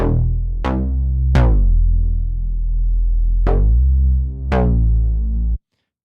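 A Reese bass synth patch built in Serum plays a sustained, droning low tone, with an LFO-driven filter cutoff opening in four sharp, bright sweeps that quickly close again, then cutting off abruptly.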